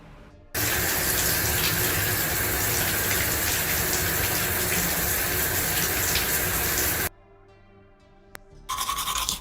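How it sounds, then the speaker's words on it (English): A shower runs with a strong, steady gush of water for about seven seconds and then cuts off abruptly, followed by a short quieter stretch with a faint drip and then a brief burst of running water near the end. "Took a shower."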